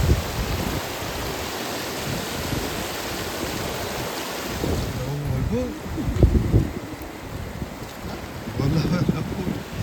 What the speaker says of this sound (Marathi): पावसामुळे आमच्या गावाचा ओढा पूर्णपणे